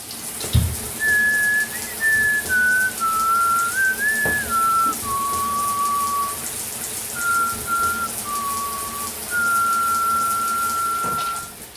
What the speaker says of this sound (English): teaching you to whistle